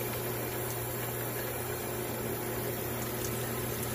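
A reverse osmosis machine processing maple sap gives a steady pump hum with a faint watery hiss as permeate water is pushed out, constant and moderately quiet, with no voices.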